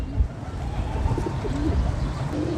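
Pigeons coo softly in low, throaty murmurs over a steady background hum, with a light bird call or two mixed in.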